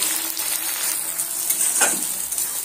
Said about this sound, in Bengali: পেঁয়াজ কুচিগুলো তেলের মধ্যে দিয়ে পেঁয়াজগুলো লালচে রং ধরিয়ে ভেজে নেব।